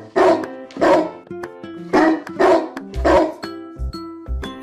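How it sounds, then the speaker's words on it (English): A dog barks loudly and close by, about seven sharp, deep barks in an uneven rhythm with short gaps between them. No speech is heard over the barking. "Dog."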